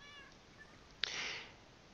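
A kitten in a Minecraft modpack gives a single short, faint meow that cuts in sharply and then trails off, heard over quiet background tones with no talking.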